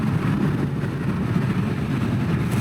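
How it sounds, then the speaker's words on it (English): A BMW E39 M5 engine that is low on power and misfiring, running with a steady, rough low rumble and uneven pulsing throughout, heard close and alone. "Sounds like it's misfiring"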